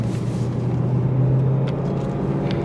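A car's exhaust revving on the road, a loud low engine rumble that swells briefly in the middle, with steady road noise and no talk.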